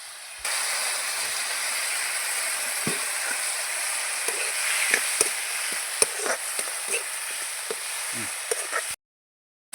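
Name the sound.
food frying and being stirred in a pan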